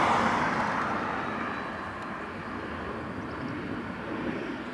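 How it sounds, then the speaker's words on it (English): A Swiss A321neo airliner just landed at Dublin Airport, its engines giving a steady broadband roar that fades slightly and holds at moderate distance, with no talk over it. "Swiss 321 Neo has just landed from Zurich."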